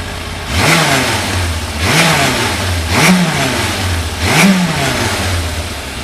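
A Yamaha Thunderace motorcycle engine being blipped during carburettor balancing: four evenly spaced rev rises over a steady idle, each swelling and dropping back, loud and close with no talk.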